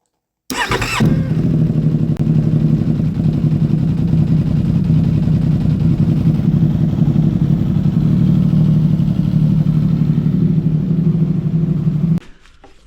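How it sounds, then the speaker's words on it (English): A CFMOTO 675SS motorcycle engine cranks and fires after a brief silence, then settles into a loud, steady, close-up idle for about eleven seconds before cutting off abruptly. "So here we go, we're gonna start it up again."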